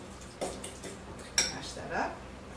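Avocado mashed with lime in a bowl gives a few sharp clinks and soft scrapes of a utensil against the dish, close and fairly quiet.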